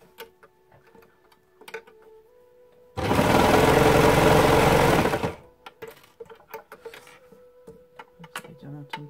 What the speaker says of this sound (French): Pour celles qui voudraient avoir des infos sur ma surjeteuse, c'est la Babylock N-Line.